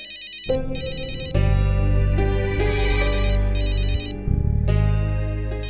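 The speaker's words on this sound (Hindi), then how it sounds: "वो मेरे बॉस का फोन है" A phone ringtone plays a bright repeating musical melody, loud and close, with no talking.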